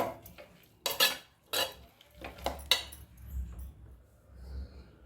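A spoon clatters and scrapes against a pan while beetroot pachadi is stirred and sautéed, in several sharp, separate knocks over a quiet background with a faint low rumble.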